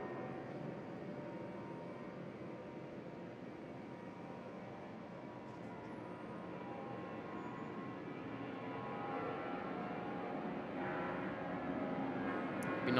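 Jet engines of aircraft at Brisbane International Airport produce a steady, distant rumbling roar that slowly builds in loudness over several seconds, faint and broad with no talk over it.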